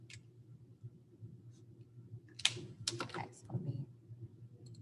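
Computer keyboard typing a short equation, a few soft clustered keystrokes close by over a quiet room with a faint hum, with a person speaking around them.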